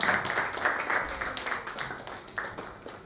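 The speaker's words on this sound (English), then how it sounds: "You need to applaud again because they deserve it" An audience at a TEDx salon event applauds the team on stage, giving moderate, steady clapping from a crowd throughout, slightly diffuse and roomy.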